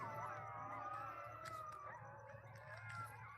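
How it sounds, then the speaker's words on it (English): Coyotes howl outside a house at night in a distant chorus of wavering, overlapping yips and howls over a steady low background hum. "You hear the coyotes?"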